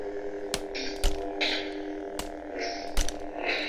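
Galaxy's Edge toy lightsaber clash effects: several sharp electronic crackling bursts over a steady low hum, fairly close and moderately loud, with no speech.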